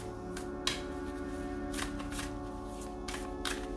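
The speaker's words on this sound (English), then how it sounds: "I shuffle the astro deck now" An astrology card deck is being shuffled, with quiet riffling bursts and soft card slaps at irregular intervals, close and isolated with no speech.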